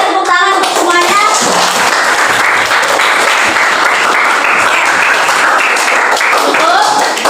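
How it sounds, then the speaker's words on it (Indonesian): A classroom of students claps together during a guidance lesson, a dense, steady wash of applause lasting throughout with children's voices and chatter mixed in. "Boleh tepuk tangan untuk semuanya"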